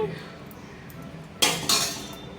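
A metal lid set onto a pot of chicken curry, two close bright clanks in quick succession after a quiet stretch with faint kitchen background.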